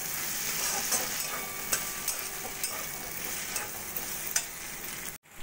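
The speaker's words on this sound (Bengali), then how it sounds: "পোস্ত বাটা দিয়েও ভালো করে মিশিয়ে নেব।" Poppy seed paste is stirred into bitter gourd and potato frying in a pan, a continuous close sizzle broken by repeated scraping strokes of a spoon, ending in a brief drop-out.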